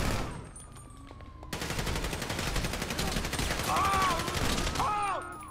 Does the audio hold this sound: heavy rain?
no